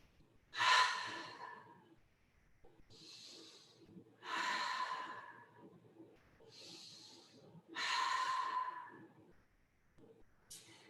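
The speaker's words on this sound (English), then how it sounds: "we'll take 3 letting go breaths, releasing anything that doesn't serve us right now. Inhaling through the nose, exhaling through the mouth." Three slow, deep breaths during a guided yoga session, each a drawn-in nasal inhale followed by a long, breathy exhale through the mouth, close and soft, evenly spaced with quiet pauses between.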